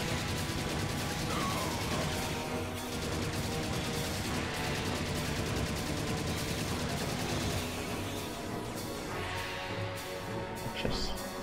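Gunfire in the shooter Serious Sam 2 is a continuous, loud barrage of rapid shots and crashing impacts, dense and unbroken for the whole stretch with no clear talk over it.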